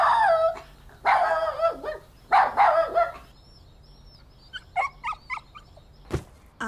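A dog barks and yips in short bursts, loud and close, in an animated scene, followed by softer whimpering yelps and a sharp thud near the end.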